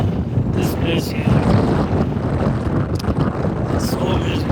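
Strong wind buffeting the microphone in continuous gusty roars, loud and close throughout, in Rocky Mountain National Park.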